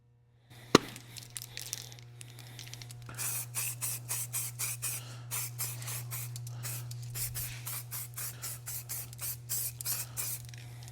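Repeated short hisses from an aerosol spray can pulse in a steady rhythm onto a vehicle frame rail, close and fairly loud, over a constant low electrical hum.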